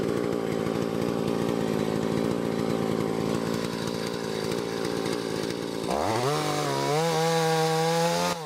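A chainsaw cuts into a tree during felling, running loud and steady at high revs before dropping to a rising and falling idle that revs up several times.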